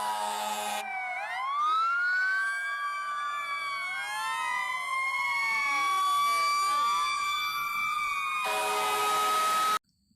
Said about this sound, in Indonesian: Mobil pemadam.